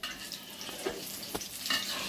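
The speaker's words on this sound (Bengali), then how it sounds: "আলুর চপ ভাজছে" Potato chops (alur chop) dipped in gram-flour batter deep-fry in hot oil, a quiet continuous sizzle broken by a few sharp stirring scrapes and splashes.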